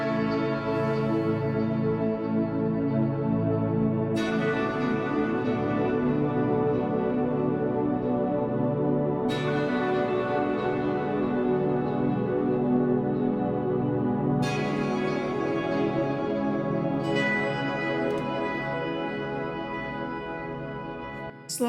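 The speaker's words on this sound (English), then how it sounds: "now the ambient guitar and also the slow attack piano is going to play" Logic Pro recreation of a song with synth pads, ambient guitar and slow attack piano, soft sustained chords swelling together, bright chiming accents entering every few seconds, steady and calm throughout.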